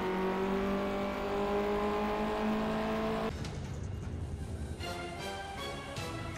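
A BMW 1 Series M Coupe engine in the Project CARS racing game, holding a steady loud drone that cuts abruptly to a rougher, lower rumble with fluctuating revs, alone without talk.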